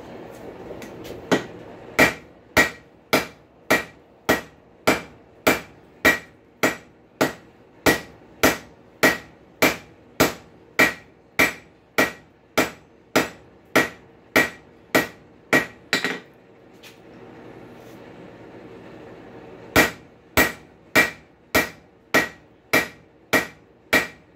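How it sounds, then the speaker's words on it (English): A heavy hammer forges a railroad spike into tongs, striking in a steady rhythm of sharp ringing metallic blows, close and loud, with a brief pause before the blows resume. "This is what goes into railroad spike tongs. Heavy hammer."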